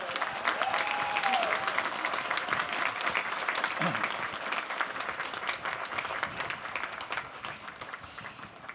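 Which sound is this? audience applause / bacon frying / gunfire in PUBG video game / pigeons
audience applause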